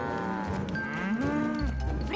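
Cows moo in an animated children's cartoon: long, drawn-out lowing calls that swoop in pitch, overlapping one another and clearly audible over a soft background score.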